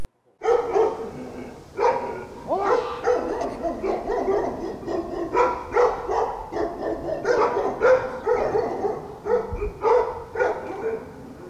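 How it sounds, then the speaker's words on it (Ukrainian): Several dogs at a dog-breeding kennel bark continuously from their enclosures, loud overlapping barks and yips in quick irregular bursts, close and without talk. "власнику розплідника не вдалося заткнути песикам рота"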